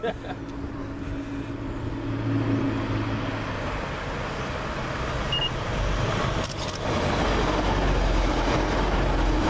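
A train passing through Swinton station, a broad rumbling wash of rail noise that swells and grows louder toward the end, with steady low mechanical drone throughout.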